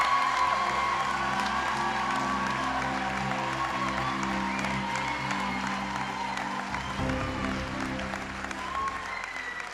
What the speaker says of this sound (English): Let us give a massive round of applause to our 22.